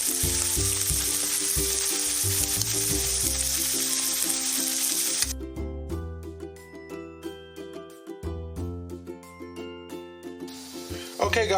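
Beef slices for bistek tagalog sizzle and fry in a pan, a steady loud hiss that breaks into crackling bursts as the meat is turned, with background music throughout.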